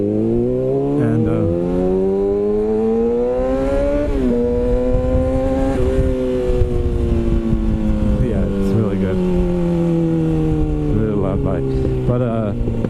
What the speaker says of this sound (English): this M4 exhaust is fucking loud and it sounds really amazing